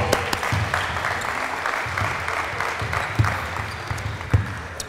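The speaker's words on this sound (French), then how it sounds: "Vous pouvez les applaudir, ça vous réveillera." Audience applause for players after a round of a game at a sports session, a moderate, even patter of clapping with a few sharper claps standing out, no talk over it.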